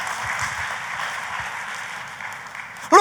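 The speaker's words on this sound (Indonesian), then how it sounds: "Tepuk tangannya yang paling meriah buat Tuhan kita" A church audience applauds in a broad, steady wash of clapping at moderate distance, ending with a short burst of a voice.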